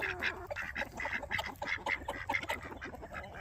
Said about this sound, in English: There's the duckies.